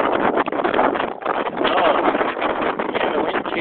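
Steady, loud wind rush buffets the microphone while paragliding through a thermal, a continuous roaring gust with slight surges, with no speech over it.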